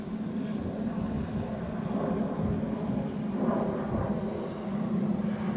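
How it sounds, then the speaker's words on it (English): A box-frame quadcopter drone on a test flight, pushed against the wind at under half throttle, gives a steady buzzing whir with a thin high whine that holds at an even level throughout. "Box quad flies very, very good."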